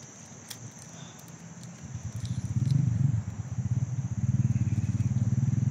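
A motorcycle passing nearby outdoors, its low engine putter swelling from faint to fairly close over a few seconds in steady rhythmic pulses, with no talking.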